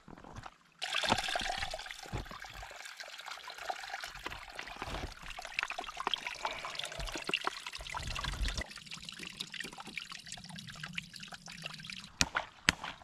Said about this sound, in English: We found a beautiful little running stream of fresh water here, coming from the top of this mountain all the way down.